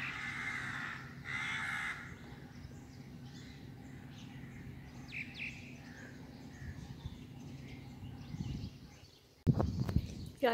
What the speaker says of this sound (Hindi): कौआ भैया का नाम लिया वो उधर बैठा हुआ है